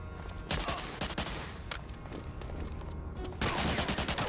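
Gunfire in a video game shootout, rapid bursts of automatic shots crackling close and loud in several volleys, with a heavier burst near the end.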